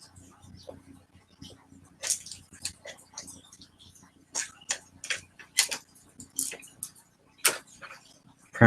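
A series of short, crisp snips and clicks, irregularly spaced and close by, as scissors cut through the plastic packaging of a box of colored pencils, with no talking.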